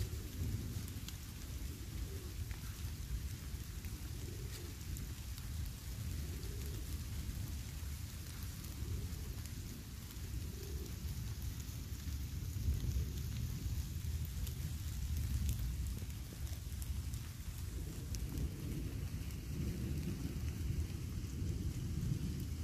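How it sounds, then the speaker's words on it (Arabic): Heavy, steady rain pours down on surfaces in the Abbasiya area at midday, with low rolling thunder rumbling underneath throughout. The downpour stays dense and continuous with no speech. "شوف المطر شوف المطر."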